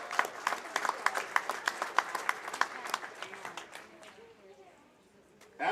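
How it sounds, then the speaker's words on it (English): Scattered, distinct claps from a modest crowd at a youth bowling tournament, sharp individual hand slaps fading out after a few seconds into quiet room tone with faint voices. "Give a round of applause."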